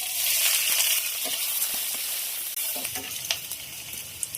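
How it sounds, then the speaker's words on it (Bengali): Whole spices, bay leaves, onion, garlic and green chillies fry in oil left over from frying fish, a steady loud sizzle with occasional stirring clicks near the pan, no voices. "ওই মাছ ভাজার তেলের মধ্যে ফোড়নে দেবো 5 ফোড়ন, দিয়ে দেবো 2টো তেজপাতা, আর এখানে আছে পেঁয়াজ, রসুন আর কাঁচা লঙ্কা।"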